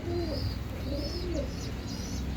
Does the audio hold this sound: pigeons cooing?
yes